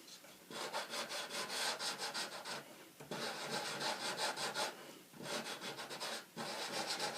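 Die-cut paper eggs being sanded by hand to expose the white core, a close, quiet, rhythmic scratchy rubbing in quick strokes, in three bursts separated by short pauses.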